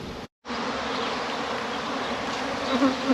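Honeybees swarm around opened hives during a New Zealand honey harvest, a dense, steady buzzing hum close by that cuts out briefly near the start and then continues without pause.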